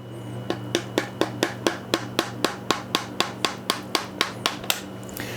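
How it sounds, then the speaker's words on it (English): A soft-face mallet of plastic, wood or rawhide taps a part of a Pedersoli 1861 Springfield rifled musket, about eighteen light, evenly spaced knocks in a steady rhythm, close and clear with no talking. "use a soft face mallet, something plastic or wood or rawhide"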